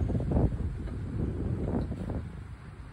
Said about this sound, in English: We're getting windy conditions today.